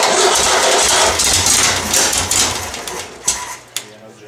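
A VW 1600 dual port engine idles after a cold start, a steady mid-pitched running drone that fades toward the end, with a couple of sharp knocks and people talking nearby.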